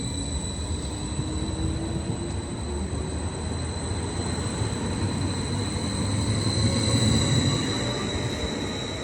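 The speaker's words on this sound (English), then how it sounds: "Bye-bye train." A train rumbles steadily past, with a broad roar of wheels on rails and faint high squeals riding over it, no voices.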